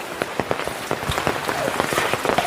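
Rain pattering on surfaces on a mountainside, a dense, steady hiss broken by frequent sharper drops and splashes, close and fairly loud with no talking.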